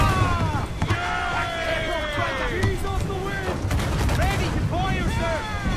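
Ship cannons firing during a naval battle in Assassin's Creed IV Black Flag, deep booms rumbling under a continuous roar of battle noise, with whistling projectiles and voices shouting over it.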